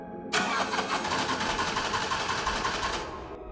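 A bus engine cranking with a steady whirring starter for about three seconds, loud and close, then cutting off.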